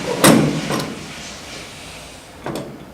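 Lever door being inserted onto a Presidential soft-serve machine, a few sharp plastic and metal clunks and sliding scrapes, close up with quiet pauses between them.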